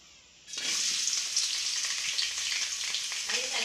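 Onions and chillies hit hot oil in a bowl-shaped pan for egg fried rice, bursting into a sudden, loud, steady sizzle that continues unbroken, close and alone.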